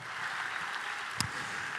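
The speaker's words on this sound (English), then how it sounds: "Give a nice round of applause, ladies and gentlemen." Audience applause for a couple in a cruise ship game show, even steady clapping throughout with one sharper clap standing out near the middle.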